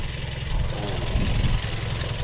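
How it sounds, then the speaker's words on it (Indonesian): A Toyota Vios engine idles steadily up close, a smooth low rumble that holds even throughout with no revving. "Mesinnya bagus tuh, suaranya halus."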